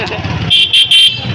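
Busy road traffic at a large pigeon market in Comilla, with a steady rumble of vehicles and people talking throughout, broken by three short, loud, high-pitched horn toots in quick succession.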